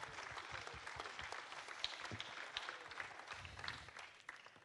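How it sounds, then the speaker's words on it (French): A modest audience at a French regional web awards ceremony claps for the 2010 winner, an online cosmetics retailer. Scattered, fairly close applause with individual claps audible and a faint murmur underneath. "Eh bien, on va l'applaudir."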